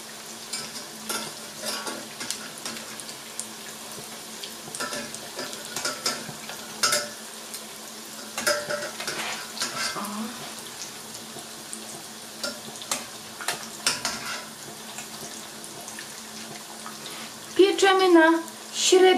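Mushroom-heavy minced meat patties sizzling in a frying pan over medium heat, a steady crackle with scraping and clinks as they are turned, and a voice talking briefly near the end.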